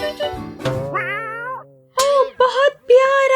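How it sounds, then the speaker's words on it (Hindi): A pet cat meows several times in close succession, clear and near, with its calls stretching into drawn-out, rising cries; a person's voice is heard speaking in between. "मुझे बिल्ली पसंद है।"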